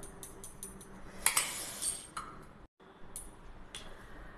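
A spoon clinking against a metal kadhai as homemade ghee made from malai is put in, a few light, close taps and scrapes separated by quiet gaps.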